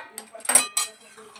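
A metal lid comes off a pot of dalia khichuri cooking on a gas flame, giving a few short clanking, clinking knocks close by with no talk.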